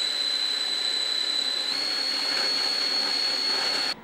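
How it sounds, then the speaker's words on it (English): A countertop blender runs steadily on almond and hazelnut butter, a loud continuous whirring roar with a high whine that shifts pitch slightly partway through, then cuts off abruptly at the end. "So now we're going to blend it for a little longer, like 10-20 seconds."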